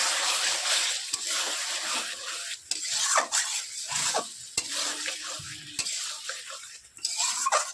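Lote fish fries with spices in a pan while being stirred, a close sizzle broken by repeated scrapes and clacks of a spatula against metal.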